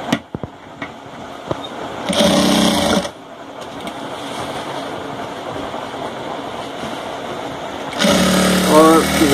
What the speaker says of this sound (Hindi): अब इसको इसी के अंदर इस टाइप से रख के सिलाई करेंगे